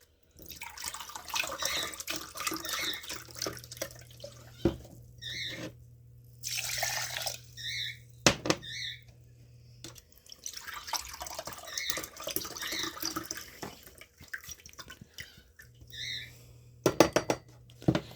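Water splashes and trickles into a pot of rice in several pours, with occasional clinks of metal and quiet pauses between.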